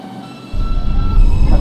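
A westbound 2 express subway train starts up after a quiet moment, a deep low rumble swelling as the car gets moving, with a faint tonal hum above it and no one talking.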